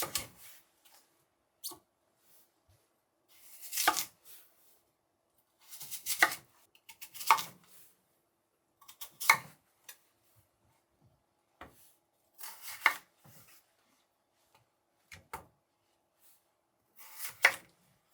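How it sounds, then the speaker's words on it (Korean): A knife chops firmly through peeled radish on a board, cutting thick half-moon slices for a kimchi-style radish dish; about ten distinct crunchy cuts come in uneven clusters with quiet gaps between them. "깨끗이 껍질을 벗긴 뒤 4에서 5cm 두께로 썰어 반달"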